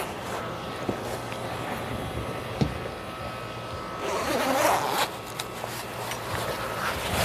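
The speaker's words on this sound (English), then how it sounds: "And then you're just going to unzip the boot all the way." A zipper is drawn along the boot cover of a rental boat, a soft rasping run of short bursts heard close over a low steady background hum.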